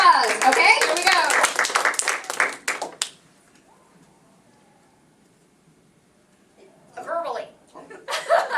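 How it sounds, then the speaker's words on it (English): A small audience at an improv monologue workshop claps briskly for about three seconds, then falls quiet; later, people speak and chuckle near the end. "Give them a round of applause."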